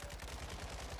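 Rapid automatic gunfire in Warzone 2, a quiet, distant stream of evenly spaced shots rattling steadily for about a second.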